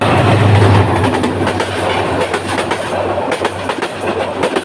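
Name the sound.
train arriving at Comilla railway station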